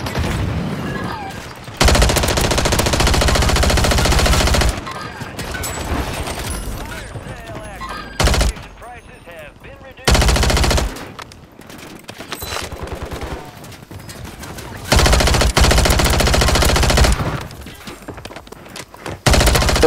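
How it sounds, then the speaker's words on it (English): Bursts of automatic gunfire in Call of Duty: Warzone on Rebirth Island, with loud rapid volleys in several separate clusters between quieter gaps, and a player talking in between. "I'm getting shot"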